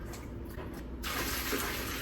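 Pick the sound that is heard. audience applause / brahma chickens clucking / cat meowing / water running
water running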